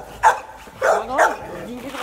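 An aggressive pitbull barks close by, three sharp, loud barks with a short whine between, against a quiet background.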